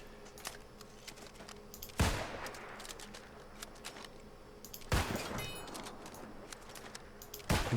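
Musket shots in the New World video game, two sharp, loud reports a few seconds apart with a decaying tail after each, over a steady low background hum and faint clicks.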